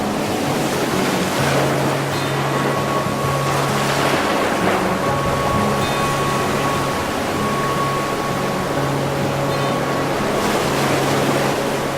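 Waves wash and rush continuously against the shore at Kenting, Taiwan, under wind, with a low motor hum droning in the background.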